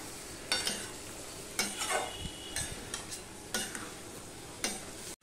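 Spiced meat is stirred and sautéed in a pot, with a soft steady sizzle broken by distinct scraping strokes of a utensil roughly every second, close and fairly quiet, without speech.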